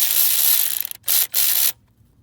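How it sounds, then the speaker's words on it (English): Ratchet tightening the bolts of a Mercedes Sprinter fuel filter bracket: a loud burst of rapid clicking, a brief pause, then two more short, sharp ratcheting bursts, close up and alone, ending in silence. "now we're tightening these three brackets equally"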